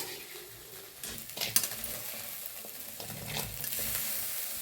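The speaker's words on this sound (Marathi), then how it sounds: "आपली गवारी छान अशी भाजलेली आहे काढून घेऊया एका प्लेट" Roasted cluster beans scraped and scooped out of a cooking pan onto a plate: close, uneven metal-on-pan scraping and light clatter, with a couple of louder strokes and no voices.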